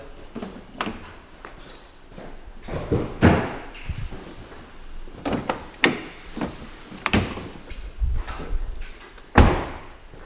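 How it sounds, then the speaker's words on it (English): Several thumps, clunks and rattles of a 2018 Honda Civic's door being opened and shut, repeated over a few seconds with handling noise between. "I'll open the other door on the other side."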